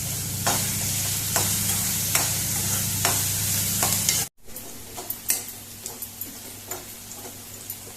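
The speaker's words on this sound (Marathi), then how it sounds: "आतां हो कांदो बरो फ्राय जावन दी" Onion with green chilli and salt frying in a pan for Goan-style dry clam masala, a loud steady sizzle with rhythmic spatula taps, then after a brief cut a quieter sizzle with sharper stirring clicks.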